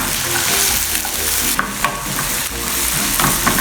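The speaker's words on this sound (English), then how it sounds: "So I'm going to fry these." Smashed green plantains fry in hot oil over low to medium heat, giving a dense, continuous sizzle with occasional stirring scrapes close by and no one talking.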